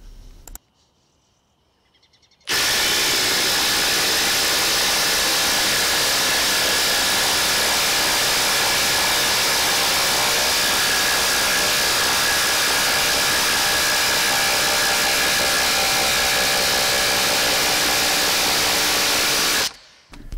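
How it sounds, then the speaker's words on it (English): RIDGID Octane and Makita impact drivers sink long lag screws into a treated 4x4, a loud, continuous hammering whir that starts abruptly after a short quiet lead-in and runs steadily for about seventeen seconds before cutting off. "I will drive longer lags down through this treated 4x4"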